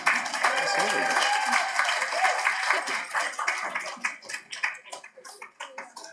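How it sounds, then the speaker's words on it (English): A crowd at an awards ceremony claps enthusiastically, steady at first and then thinning into scattered, fading claps toward the end. "That is a huge round of applause for a brilliant job."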